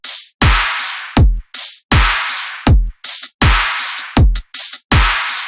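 A future riddim beat of electronic drums: punchy kicks with deep pitch-dropping tails alternate with bright snare and hi-hat hits in a tight, looping rhythm, loud and clean with no voice over it.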